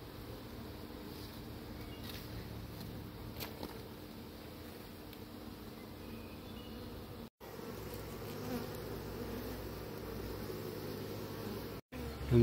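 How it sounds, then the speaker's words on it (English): Honey bees buzz steadily during a hive transfer, a dense continuous drone heard close by, with two very brief dropouts and no talking. "Yep, we got bees and we're getting ready to transfer them over."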